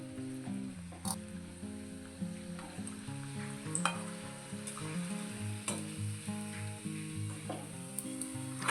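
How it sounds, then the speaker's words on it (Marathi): Banana samosas deep frying in hot oil give a steady bubbling sizzle up close, broken by occasional light knocks and stirs, with no talking. "अशाच प्रकारे आपण दुसरे समोसे तळून घेऊ"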